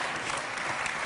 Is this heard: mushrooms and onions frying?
no